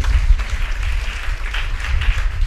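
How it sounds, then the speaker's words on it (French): A church congregation applauds in a dense, sustained wash of clapping that fills the room evenly from start to finish, with no voices standing out. "Clap for the word of God."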